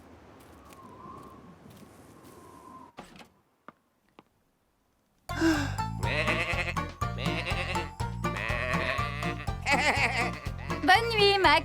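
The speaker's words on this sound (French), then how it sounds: "Quant à Flore et Max, ils ont enfin retrouvé les moutons." A sheep in a French children's cartoon about a farm tractor gives a short, quavering bleat. A brief quiet gap follows, then lively, loud cartoon music takes over.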